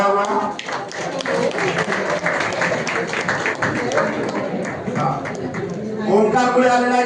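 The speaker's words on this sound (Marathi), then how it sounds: "जोरदार टाळ्या वाजवा" Applause from an audience at a college annual gathering and prize-distribution ceremony, dense and continuous for the full stretch with steady clapping texture, a voice sounding over it near the end.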